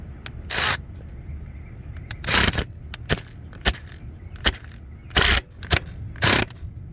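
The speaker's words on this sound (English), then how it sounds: "Now we secure it with the 10 millimeter bolt." Metallic clicks and ratcheting bursts from a wrench tightening a 10 mm bolt on the crankshaft position sensor of a Jeep Patriot, several short loud bursts in uneven rhythm, close by with no talk.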